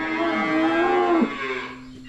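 Dairy cows mooing inside a long barn during below-zero winter weather, a drawn-out low moo that swells and fades, close and clear over steady background barn hum.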